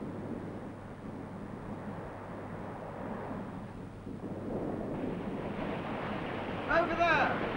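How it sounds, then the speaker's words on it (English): Ocean waves crash against icebergs in a steady, broad wash of surf and wind, fairly distant, swelling louder toward the end with a brief sharper burst. "Waves crashing high against their towering cliffs of ice bring a powerful reminder"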